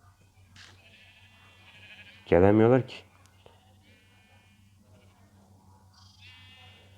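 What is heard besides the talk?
sheep bleating in a video game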